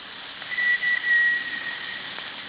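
Live steam model locomotive sounds a short, thin whistle in a few brief bursts over a soft background hiss, near and moderately quiet.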